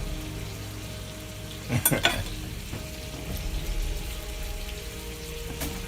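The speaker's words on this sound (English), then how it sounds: "Let's take a look at the bacon. It's cooking fairly well." Bacon frying in a pan for a classic BLT sandwich gives a steady, close sizzle and crackle throughout, with a couple of brief scraping stirs around two seconds in.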